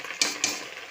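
Garlic and dried chillies frying in a pan as taro leaves go in, a steady close sizzle broken by two quick scraping stirs.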